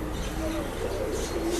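A pigeon at a pet shop coos softly in a low, rolling call over a steady background hum and faint room noise.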